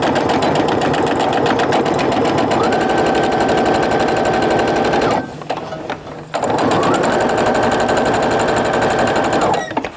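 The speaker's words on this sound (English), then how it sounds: "I'm going to sew this seam first, and then I can get my edges lined up and sew those second." A sewing machine stitches a bag seam in two long, steady, loud runs of rapid mechanical chatter, broken by a brief pause about halfway through.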